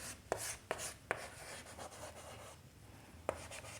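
A board eraser rubs across writing on a classroom board in a few quick, close strokes, with scratchy swipes separated by short pauses in a quiet room.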